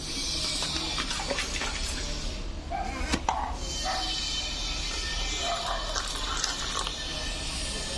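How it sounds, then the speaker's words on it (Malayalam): Warm water splashes and swishes as a mixer jar is rinsed in a kitchen, with a faint, running, uneven wash. "ഈ മിക്സി കഴുകിയിട്ട് കുറച്ച് ഇളം ചൂട് വെള്ളം ഒഴിച്ച് മിക്സി ഒന്ന് കഴുകി, ജാറൊന്ന് കഴുകി ഒന്ന് ഒഴിച്ച് കൊടുക്കാം"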